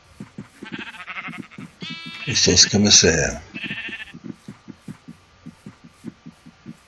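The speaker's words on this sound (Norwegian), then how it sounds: "Her borte er det flere sauer her." Minecraft sheep bleat in a short run of quavering, nasal calls in the middle, over steady rhythmic game sounds, with someone talking briefly.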